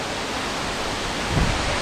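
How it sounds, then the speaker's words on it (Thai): Wind roars steadily near a waterfall, blending with the rushing water into a dense, loud wash of noise. "ลมมันโตเนาะ"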